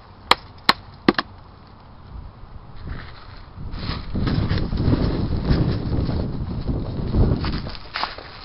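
Three sharp, evenly spaced chopping knocks ring out in a forest. Wind noise and rustling footsteps follow as someone moves through the woods.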